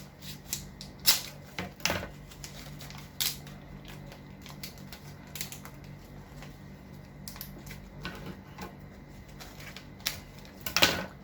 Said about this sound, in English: Right, so I'm just going to cut a little piece here.